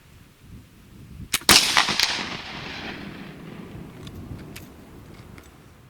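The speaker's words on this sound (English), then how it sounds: "So there's the 3 rounds with the loose patched ball." An 1800 Baker flintlock rifle loaded with loose patched ball fires one sharp, loud shot, followed by a long fading echo outdoors, with no talking.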